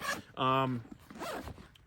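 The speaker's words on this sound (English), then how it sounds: "It's got 2 zippers, so you're able to stage the zipper whichever direction you would like to." A zipper on a heavy-duty bag is pulled open in one quick rasping stroke, close and clear, with soft speech-like sounds around it.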